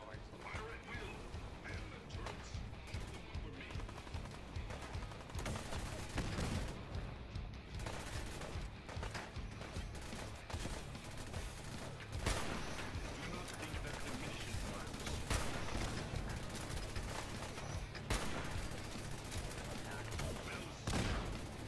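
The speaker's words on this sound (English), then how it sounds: "Soldier, man the cannons." Cannons and guns fire during a battle around the USS Constitution ship in the video game Fallout 4, dense, loud bursts of shots and booms packed over a constant roar, with voices talking through the commotion.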